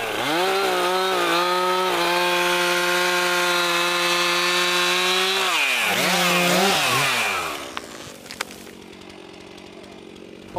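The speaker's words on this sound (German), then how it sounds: "Erst dann sägt er ihn final durch." A chainsaw cuts through a massive, tons-heavy tree trunk, engine whining loudly at steady high revs, dipping as the chain bites, then releasing and dropping to a quieter idle near the end.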